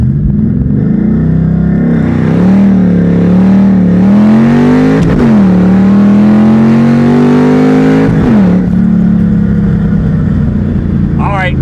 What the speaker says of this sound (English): little soft launch just to see what we're working with